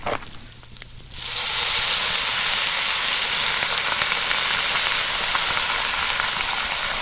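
Red Merlot wine hits a hot pan and erupts into a loud, hissing sizzle that holds steady and dense after a quieter moment of handling.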